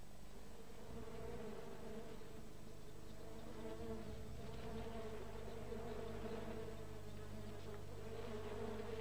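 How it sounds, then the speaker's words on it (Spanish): A dense, continuous drone of a huge swarm of small lake flies buzzing over Lake Victoria, steady and enveloping with no pauses, like a hum filling the air. "la introducción de la perca del Nilo en el lago Victoria indirectamente puede haber aumentado los enjambres de moscas"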